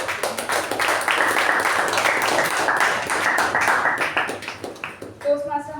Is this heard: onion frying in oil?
no